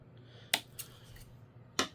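Three crisp snips, close and fairly quiet, spaced irregularly like a pair of scissors cutting through thin material.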